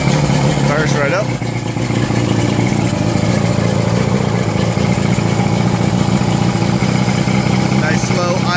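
A 2000 Johnson 115 outboard motor idles with a steady, continuous, fairly loud drone that holds evenly throughout, with a brief voice near the start.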